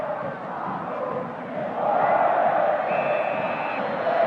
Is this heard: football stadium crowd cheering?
yes